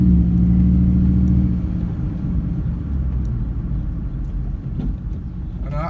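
A car engine rumbles steadily as the vehicle drives, with a heavier low drone for the first second or so before settling into a constant, slightly rougher hum; close and fairly loud, no one talking.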